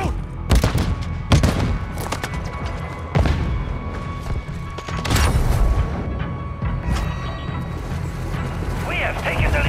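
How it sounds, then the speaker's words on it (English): Call of Duty Season 2 Hardpoint multiplayer match with a stun grenade and gunfire: rapid bursts of shots and heavy booms crowd the whole stretch, loud and dense, with game voices calling out between the blasts. "Stun grenade out!"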